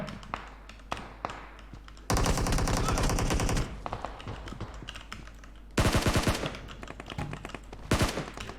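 AK assault rifle gunfire in the PUBG Mobile battle royale game: two long sustained automatic bursts and a shorter one, loud and close, separated by scattered single taps and quieter thuds.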